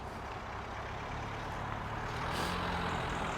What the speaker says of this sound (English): Just letting the car go past, okay? It's messing with the mic.